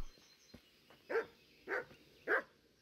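A dog barking in the medieval role-playing video game Kingdom Come: Deliverance, three evenly spaced, clear barks close by, preceded by a couple of faint soft thuds.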